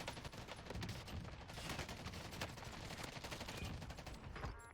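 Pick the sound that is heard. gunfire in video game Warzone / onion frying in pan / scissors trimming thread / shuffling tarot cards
gunfire in video game Warzone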